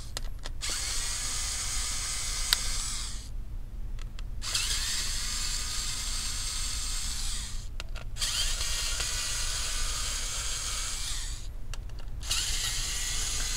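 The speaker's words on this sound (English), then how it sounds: "Let's go ahead and loosen up the screw first." A small electric screwdriver or drill loosens captive screws during teardown of an MSI GF63 Thin 9SC laptop, whirring steadily in three long close-up runs separated by brief pauses, with no talking.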